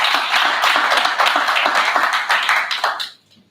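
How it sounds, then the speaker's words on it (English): A summit audience gives a dense, steady round of applause for the event's sponsors at a leadership gathering in Tshwane; the clapping stays loud and even for about three seconds, then stops abruptly, leaving near silence. "To that, they need a round of applause."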